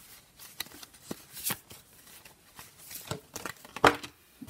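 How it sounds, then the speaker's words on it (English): A deck of oracle cards is shuffled by hand in a steady flurry of soft riffling and papery slaps, close and fairly quiet, with a few sharper snaps standing out and no talking. "So I'm just going to give the cards a quick shuffle here"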